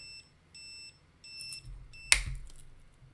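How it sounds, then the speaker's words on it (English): Repeated electronic beeps sound during the assembly of a DIY electronic load, followed by a sharp snap or click and a brief rumble. The beeps are thin, evenly spaced and fairly faint against a quiet room. "You guys missed that beeping?"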